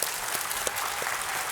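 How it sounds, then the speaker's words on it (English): A full audience applauds steadily as a guest is welcomed onstage at a Windows business keynote event, with dense, even clapping throughout the short burst. "Give me a round of applause for Bob."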